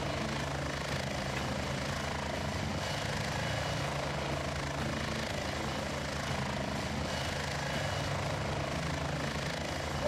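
A combat helicopter in flight in Heliborne, a steady droning rotor and engine roar that holds constant throughout, close and loud with no break.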